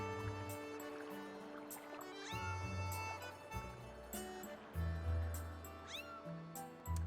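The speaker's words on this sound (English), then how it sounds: "You tired of hearing it meow?" A cat in the video game The Legend of Zelda: Skyward Sword HD meows repeatedly, several short, clear mews over a steady bed of game music.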